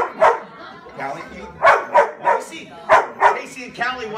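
Two black Labrador dogs bark loudly and close by, firing off a quick irregular series of sharp woofs and yips.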